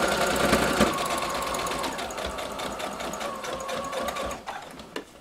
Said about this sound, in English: So let me just stitch over the top and show you.